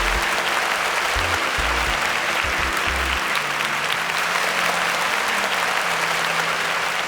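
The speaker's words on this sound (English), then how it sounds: "Can we give IntersWitch a round of applause for that?" A studio audience at a televised Nigerian quiz show gives Interswitch a dense, steady round of applause, loud throughout, with a low music bed running underneath.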